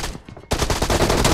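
Rapid close-range MP5K submachine gun fire in a team deathmatch shooter game, a brief lull then a dense, loud unbroken burst of shots.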